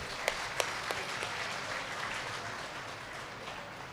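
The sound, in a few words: audience clapping loudly for the guru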